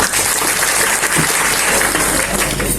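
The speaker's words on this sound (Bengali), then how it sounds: "তো তাদের জন্য আপনাদের কাছ থেকে একটি করতালি যাচ্ছে" Audience applause for special guests at a Dhaka literary centre event, a dense continuous wash of clapping throughout, fairly loud and unbroken.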